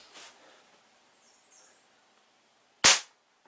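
A QB78 air rifle fires a single 5.5 grain wadcutter pellet, one sharp, close crack breaking a near-silent stretch.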